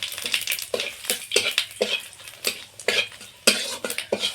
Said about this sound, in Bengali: ফোড়নটা কয়েক সেকেন্ড ভেজে নিলাম